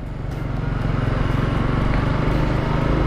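A motorbike engine on a small step-through moped drones in a steady, loud, slightly rising hum as the throttle is opened while the gear shift sticks, with no clear rev change.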